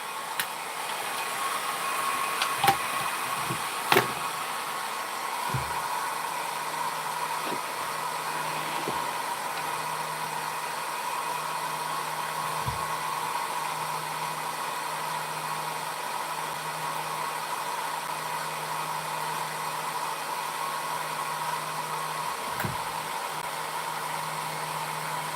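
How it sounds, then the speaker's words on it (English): A Mark II extractor runs with a steady, quiet whirring hum and airy rush that holds unchanged throughout, with a few faint knocks early on. "A Mark II extractor."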